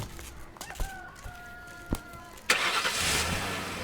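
A vehicle stalled at the roadside has its engine started, a sudden loud catch followed by a steady running rumble, preceded by a few sharp knocks and a rooster-like crowing call in the background.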